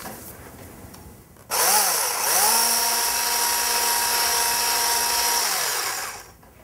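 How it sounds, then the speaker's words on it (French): An electric whisk whirs into life beating egg whites for a marbled chocolate cake, a steady high motor whine that shifts pitch briefly at the start, holds for several seconds, then winds down. "on va les fouetter énergiquement. Je vous conseille quand même à l'aide d'un fouet électrique"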